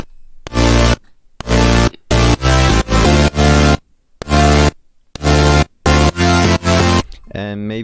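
Synthesized supersaw power chords built in FL Studio Mobile blast in short, bright, dense stabs separated by brief silences, loud and rhythmic, ending in a shorter sustained chord.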